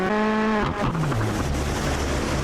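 A rally car in Sebastien Loeb Rally Evo spins out, its loud engine note dropping from a high steady whine into a sputtering, scrabbling rumble of gravel and tires that continues to the end.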